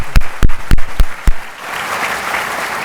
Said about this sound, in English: I'd like to give you all a round of applause.